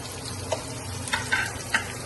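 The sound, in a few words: onions sautéing in a pan for Spanish mackerel sarsiado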